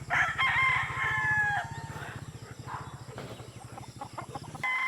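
A Boston White gamefowl rooster crows close by in one drawn-out call, with a steady low mechanical hum in the background.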